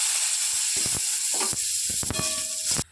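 Pointed gourd (potol) hits hot oil in a pan and sets off a steady, close sizzle and hiss, with scattered clinks and scrapes of a utensil over it.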